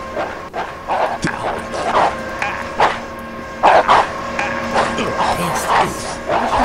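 Several dogs bark and yip in a junkyard in the video game Postal 2, repeated sharp barks at irregular intervals over a steady background hum, fairly loud, with no talking.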